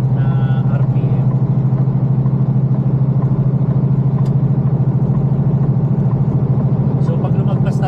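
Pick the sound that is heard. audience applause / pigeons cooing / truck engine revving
truck engine revving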